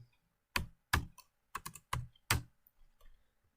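Someone types Python code on a computer keyboard, producing about ten crisp, close keystrokes in an uneven rhythm over a few seconds, with a couple of quicker double taps.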